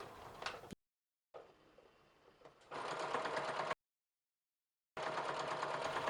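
A sewing machine stitching fabric for toddler jogger pants, running at 2.5 stitch length in short bursts: a soft start, then a loud steady whirring hum that cuts off abruptly and resumes after a pause.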